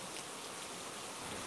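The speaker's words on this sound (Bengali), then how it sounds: "আকাশে প্রচণ্ড এক মেঘের গর্জনের সাথে বৃষ্টিও শুরু হয়ে গেল।" Steady rain falls as a soft, uniform hiss in a horror cartoon scene at a train station platform, with no distinct thunderclap standing out.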